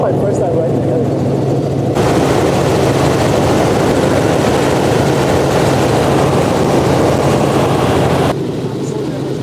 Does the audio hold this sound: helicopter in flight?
yes